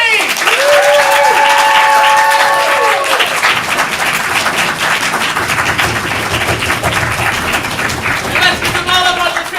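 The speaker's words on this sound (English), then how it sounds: "big round of applause for their 3 scenes!" Audience applause at an under-18 ComedySportz comedy showcase, a loud sustained wash of clapping across the whole stretch, with cheering and whoops rising over it near the start.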